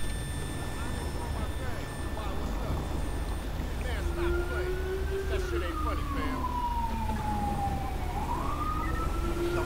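A wailing ambulance siren in the game GTA 5 with police mods, set in heavy fog, sweeps up and down in pitch and is steady and moderately distant over a constant low engine rumble.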